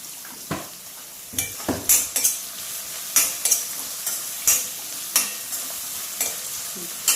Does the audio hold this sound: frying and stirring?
yes